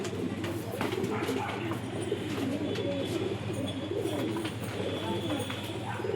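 Punjabi pigeons of a rocket line cooing continuously in a loft, dense overlapping coos and soft calls close by, steady and moderately loud, with faint background voices mixed in.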